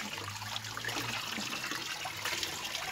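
Cold water trickles and splashes at a stepwell in Sehnsa, Azad Kashmir, a continuous nearby gurgle with a low hum underneath.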